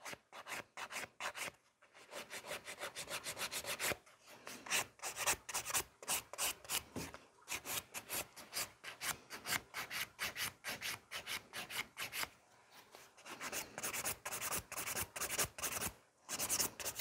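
A hand file works over sculpted acrylic nails in quick rasping back-and-forth strokes, close and crisp, in rhythmic bursts separated by short pauses, with no talk.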